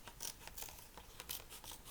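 Scissors snipping through paper while cutting out a snake-shaped craft, a quiet run of short crisp snips and rasping slides repeating steadily and close by, with no talking.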